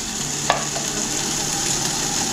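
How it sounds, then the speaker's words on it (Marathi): Onions sautéing in oil in a pan for Nashik-style mutton vajadi, a steady broadband sizzle with a single sharp clink near the start and a faint low hum underneath, no voices. "तर कांद्याला चांगला आपण परतून घेणार आहे."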